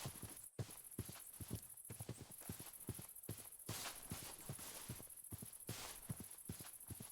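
Horses in a video game clip-clop in a quick, steady rhythm of hoof strikes, close and distinct, with a faint high tone running behind them.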